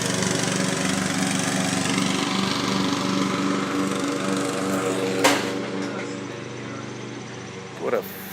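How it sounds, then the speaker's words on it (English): A riding lawn mower's engine drones steadily in the rain at a moderate distance, a constant mechanical hum with a couple of brief louder bumps near the end. "Got a dummy on the lawnmower."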